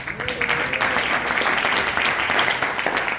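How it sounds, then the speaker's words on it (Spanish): Church congregation applauding, dense steady clapping from many people throughout, with faint voices mixed in. "Denle ofrenda de palmas."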